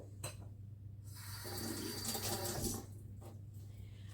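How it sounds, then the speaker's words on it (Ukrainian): Running tap water rinses salt off a salted Mersin fish, a steady gush that swells for about a second and a half between quieter moments, close and fairly soft. "а цю рибку швиденько, секунд на 10. Змиваємо сіль."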